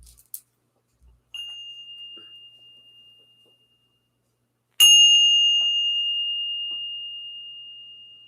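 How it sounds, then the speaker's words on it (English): A small bell is struck twice, rung to clear the energy: a first tone that fades over about two seconds, then a louder ring that sustains and decays slowly through the rest, near and alone in silence. "Let's ring this bell."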